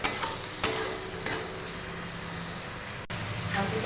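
Tomato and onion soften in hot oil in a pan for a tilapia curry, with a quiet sizzle and a few stirring scrapes, as a voice talks intermittently in the background.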